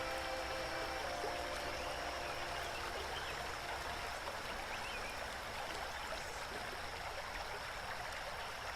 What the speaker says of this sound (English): You reach a steady flowing river.